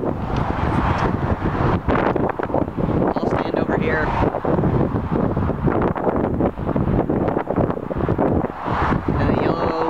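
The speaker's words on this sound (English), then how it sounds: "It's still windy." Strong wind buffets the microphone in constant rough gusts during a 50K trail race in the Gorge, with a person speaking briefly under the roar.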